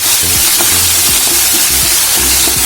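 Spices, chopped green chilli, curry leaves and asafoetida sizzle and crackle loudly in hot oil in a pan, stirred with rhythmic scrapes through the short burst.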